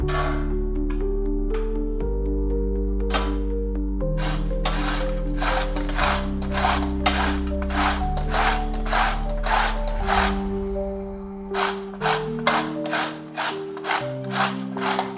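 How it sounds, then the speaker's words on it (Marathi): Bottle gourd is grated by hand in a home kitchen, a series of rhythmic rasping strokes heard close over steady background music. "आता मी हा असं किसून घेतेय।"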